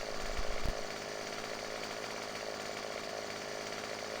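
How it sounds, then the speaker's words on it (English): Chainsaw in the Farm Simulator 15 video game, a steady buzzing engine drone running continuously at low level, with a few brief low thumps near the start. "everybody carries a chainsaw with them"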